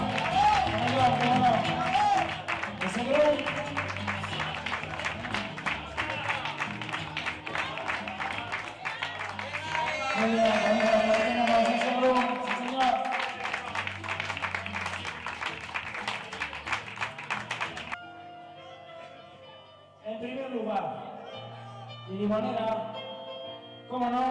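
Audience applause at a carriage driving competition in Olite, Navarra: steady clapping from a crowd lasting well over fifteen seconds beneath music and an announcer's voice. It ends in quieter talk.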